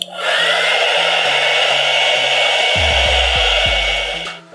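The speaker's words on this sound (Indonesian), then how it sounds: "Lalu kita bantu hair dryer." A hair dryer blows on a Javanese Solo-style hair bun, giving a steady, loud airy roar that runs for about four seconds with faint low clicking beneath before cutting off.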